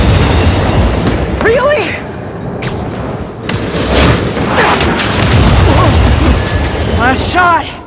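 A train is derailed and crashes in the video game Spider-Man 2. Loud rumbling booms and grinding rail noise build and swell, with shouted voices over the din.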